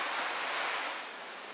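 Heavy rain falls in a dense, steady hiss of drops striking surfaces close by, loud and unbroken, then eases slightly toward the end.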